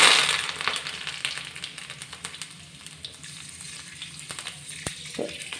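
Curry leaves hit hot oil for a Kerala-style bitter gourd dish, opening in a loud, bright burst of sizzling that settles into a steady, quieter crackle and spatter close by.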